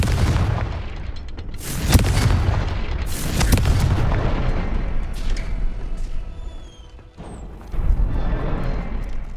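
Fiery Confringo spell blasts in the video game Hogwarts Legacy, several loud explosive booms with crackling bursts close together, then a brief lull and rumbling aftermath with faint whistling streaks.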